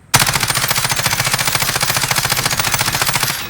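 Sustained automatic gunfire in Call of Duty Warzone, a rapid, evenly spaced burst of shots rattling continuously for over three seconds, loud and close, without any talk.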